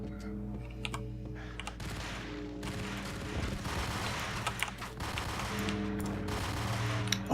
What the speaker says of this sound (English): Sir, I will appreciate it if you stop shooting the wall.